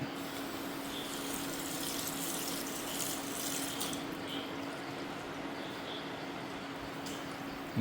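Water runs steadily for several seconds as it is added to custard powder for pineapple payasam, a continuous close splashing pour with no speech over it.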